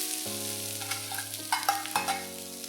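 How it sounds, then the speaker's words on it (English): Onions, ginger, garlic and carrots stir-fry in hot oil, a close steady sizzle broken by a few scraping spatula strokes and clinks, with no talk. "Fry all this for about 30 seconds to a minute till they are fragrant."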